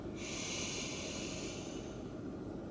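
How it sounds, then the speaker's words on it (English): Deep, slow breathing during a guided relaxation exercise: one long, airy breath close to the microphone, breathy and hissing, sustained for nearly three seconds with nothing else heard. "Breathing in all the way down to your belly like you're filling up a balloon."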